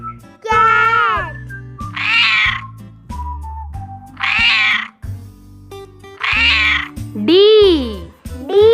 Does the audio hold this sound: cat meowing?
yes